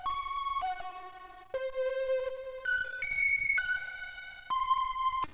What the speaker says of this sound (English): we have this very distorted lead